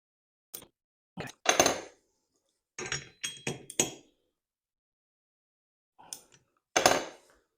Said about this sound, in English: So I got that nut good and torqued on there